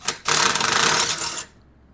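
A 1/4 inch ratchet spins out a 17 mm kickstand bolt on a lowered Venom Thunder 125cc motorcycle, giving a close, rapid burst of clicking that lasts about a second before stopping.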